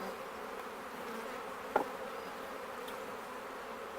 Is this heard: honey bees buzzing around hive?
yes